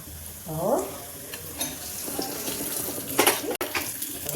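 Garlic crackles and sizzles in hot ghee with cumin, with a brief clatter and some faint water-like rustling in the background.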